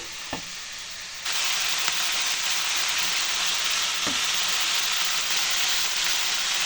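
Potatoes and beans fry in a wok over low heat, a steady broadband sizzle that starts abruptly and holds evenly, with a couple of faint utensil knocks and no voices.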